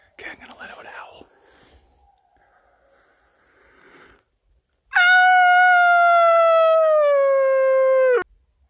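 A person imitates a wolf howl outdoors on a wolf hunt, one long, loud, sustained tonal wail of about three seconds that starts abruptly after faint whispering and quiet rustling.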